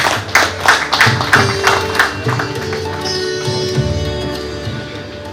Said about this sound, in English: we can all clap for ourselves in addition to our guests